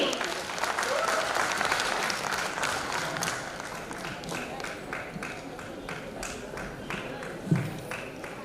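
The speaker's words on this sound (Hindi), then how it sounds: "एक बार जोरदार तालियां सिपाही आकाश जी के लिए।" Applause from an audience at a corps day celebration, with steady, dense clapping that fades slowly over several seconds. A few louder claps stand out near the end.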